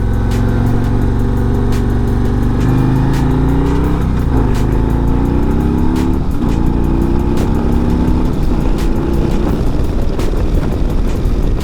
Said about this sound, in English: see how this bike takes off from a dead stop